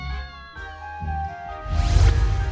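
Cat meowing close up, several drawn-out tonal meows in a row, the last one rising louder and more strained, with no speech over it.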